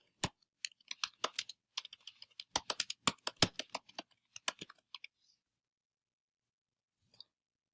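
Rapid keystrokes on a computer keyboard as a search term is typed, clicking in quick uneven bursts for about five seconds, then a pause and a few final taps, close and clear with no talk.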